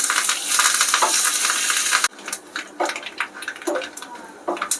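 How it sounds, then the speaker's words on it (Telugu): Curry leaves hit hot tempering oil for an Andhra pappucharu, bursting into a loud, dense sizzle for about two seconds, then dropping to softer, uneven crackling and spitting pops. "కరివేపాకు వేసుకున్నాను."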